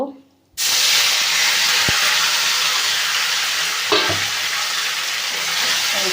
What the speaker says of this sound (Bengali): সব দিয়ে ভালো করে মেখে নিয়েছি মাছটাকে এবার তেলের পরে ছেড়ে দেব